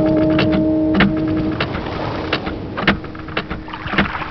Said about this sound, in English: What you hear are actually bubbles in a toilet.